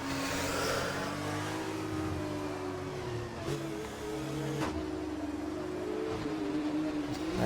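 F2 race cars pass at Monaco in a racing game, with a steady engine drone and a rising and falling pitch as they run close together.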